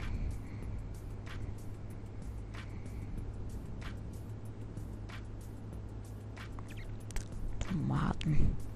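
Truck engine droning steadily in German Truck Simulator, a constant low rumble while the truck drives toward Cologne, with a few faint clicks and a brief louder bump near the end.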